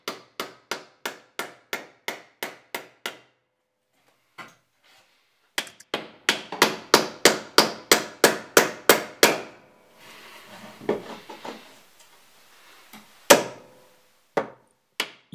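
A wooden batten being fixed to a garage ceiling: a steady run of sharp, evenly spaced hammer blows, a pause, then a faster series of loud strikes, some scraping and handling noise, and a few final isolated knocks, close up.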